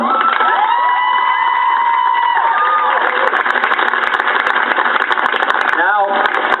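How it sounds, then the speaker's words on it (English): A UCLA graduation crowd cheers and applauds in a loud, sustained roar with shouting voices, heard through a muffled, band-limited recording, with a voice over it near the start. "let's just take this moment to give them a round of applause"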